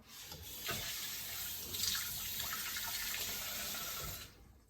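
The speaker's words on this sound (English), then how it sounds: "Give this a quick rinse and scrub." Running tap water splashing over a Damascus steel knife as it is rinsed and scrubbed at a sink, a steady close stream lasting several seconds before cutting off.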